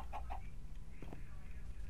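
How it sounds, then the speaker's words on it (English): A few soft chicken clucks in Minecraft, faint and close together, over a low background hum. "I hear a chicken."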